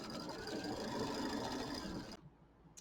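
An embroidery machine quilts an ice cream cone design on a Kimberbell mini quilt, a dense steady mechanical whir running close and loud for about two seconds before cutting off abruptly.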